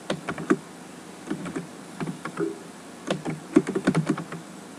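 Clicky typing on a computer keyboard as a command is entered in a CentOS terminal, with irregular bursts of close, crisp keystrokes and short pauses between them.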